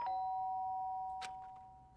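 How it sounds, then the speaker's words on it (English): Doorbell in the Danganronpa: Trigger Happy Havoc video game, a single clear electronic chime with a sustained tone that fades out, followed by a brief sharp click. "the sound of the doorbell forced its way into my room"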